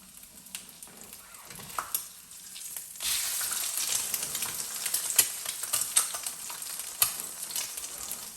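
Egg frying in grease in a pan, a steady crackling sizzle with sharp pops and spatters that grows louder partway through, close and alone without talk.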